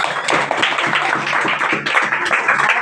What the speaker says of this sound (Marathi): त्याच्यासाठी तुम्ही टाळ्या वाजवा